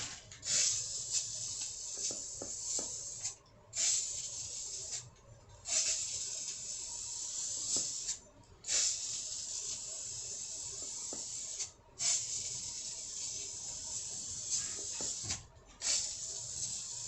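Spray paint hisses onto the front trim of a 1995 Ford F150 in a series of steady bursts, each lasting a second or two and separated by brief gaps, close and at moderate volume.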